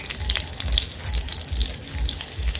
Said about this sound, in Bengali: একটু সময় ভেজে নিব।